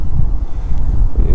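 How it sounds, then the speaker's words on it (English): Wind gusts across a rooftop, a loud low rumbling buffet against the microphone that continues for over a second without let-up. "It's getting windy up here."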